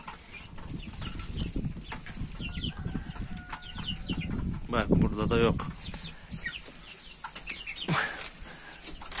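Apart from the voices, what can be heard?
young chicks and turkey, Splash Wyandotte chicks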